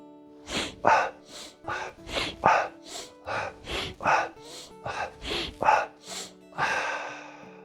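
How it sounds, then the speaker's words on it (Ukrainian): Sharp nasal inhalations repeat in a steady rhythm, about a dozen quick sniffs close to the mic, performed while bending forward and back in a Strelnikova breathing exercise (the small pendulum), ending with a longer breath. "Ми будемо робити невеличкий нахил вперед назад з одночасним вдихом через ніс."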